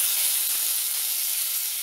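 Onions and tomatoes hit a pan of hot oil, producing a steady, bright hiss and sizzle that holds evenly for a couple of seconds with no talking.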